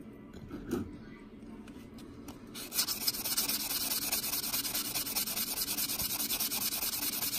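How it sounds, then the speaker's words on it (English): A silver Texas quarter coin ring is smoothed with a nail filing block, giving a close, steady rapid rasping scrub that starts softly and then runs continuously, with brief talk near the start. "It's not too bad, but we'll just smooth it out real quick."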